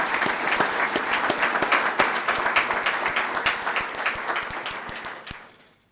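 A room full of people applauds with dense, steady clapping for several seconds before it fades out.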